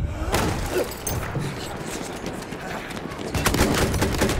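Bursts of rapid gunfire from a multiplayer shooter video game crackle continuously at close range, with heavier clustered volleys near the start and end over a busy background.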